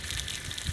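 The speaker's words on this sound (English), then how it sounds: "as I can tell from how far the water is shooting out" Water from a powerful well pump shoots out of a long pipe on a farm, a steady loud rushing gush that fills the whole moment with no talk.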